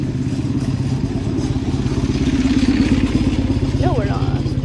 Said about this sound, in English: Oh, there's a car or a motorcycle.